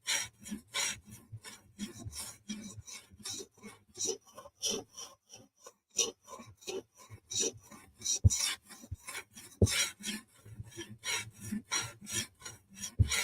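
Rhythmic rasping strokes of a ZT 0640 knife blade drawn across a stone on a TSProf Kadet sharpener, repeated evenly and close, pausing briefly midway.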